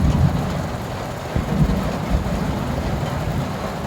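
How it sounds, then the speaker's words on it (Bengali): Heavy rain pours down steadily, a dense close roar with a few low rumbling swells, and no voices. "আমাদের এখানে প্রচুর বৃষ্টি হচ্ছে"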